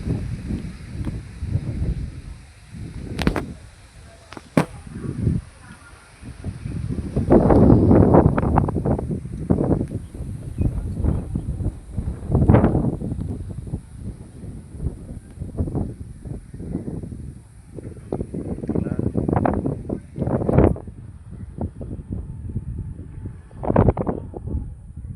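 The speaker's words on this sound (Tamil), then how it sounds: "நல்ல ஜில்லுன்னு காற்று வருது" A cool evening breeze gusts outdoors in farmland near Senkottai, buffeting the microphone in loud irregular rumbling bursts that rise and fall throughout, with occasional faint clicks.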